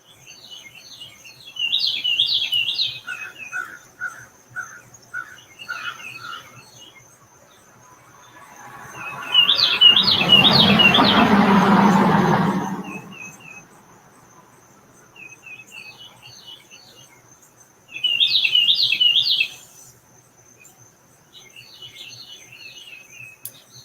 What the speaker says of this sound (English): the birds are really loud this lovely morning